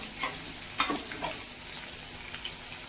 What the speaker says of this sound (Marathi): मिरची आता परतली गेली म्हणजे तळली गेली मिरची